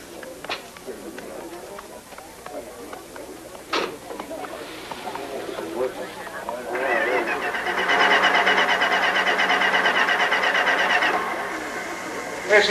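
An old car engine cranks repeatedly without catching, a steady grinding churn that grows louder midway and runs for several seconds, with a voice speaking beforehand.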